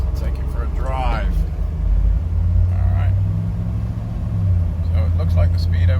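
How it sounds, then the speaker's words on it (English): A 1978 Chevy Blazer K5 out on a test drive, its engine a steady low rumble throughout, loud and close from inside the cab, with a brief voice partway through. "so what we're going to do is jump in the car and take it for a drive"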